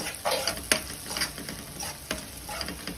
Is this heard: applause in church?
no